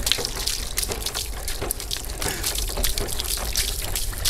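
Water from a dual action pump splashes and trickles into a cistern in the South Hebron Hills, a faint, uneven spattering flow with no talk.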